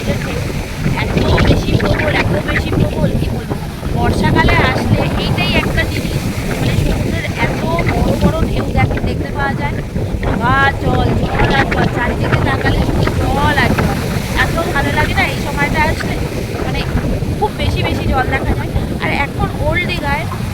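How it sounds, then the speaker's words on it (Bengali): Strong sea wind on the beach at Digha buffets the microphone in a steady, loud roar, with surf and broad water noise behind it and faint voices now and then. "চলে এসেছি সমুদ্রের কাছে আর বসে বসে সমুদ্রের হাওয়া খাচ্ছি"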